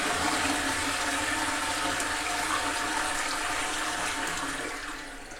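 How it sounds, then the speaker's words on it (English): A powerful toilet in Norway flushes with a loud, close, roaring rush of water that holds steady, then eases off at the very end. "Is that not the most intense flush you've ever seen?"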